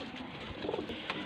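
A high-flying pigeon in Faisalabad gives a faint, low, brief cooing murmur against a soft background hiss.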